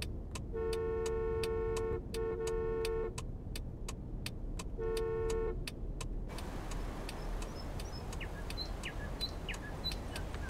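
A car horn honks in the Taxi Life city driving game, set in Barcelona: three sustained blasts in quick succession, loud and close, over steady traffic rumble and a faint ticking, then bird chirps and traffic without the horn.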